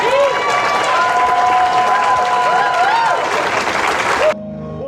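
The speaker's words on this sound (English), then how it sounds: "please give her a round of applause" An audience applauds loudly and steadily at an honors night during the 61st Annual Selma Bridge Crossing, with whoops and cheers rising above the clapping. The noise cuts off abruptly near the end, leaving a quieter room.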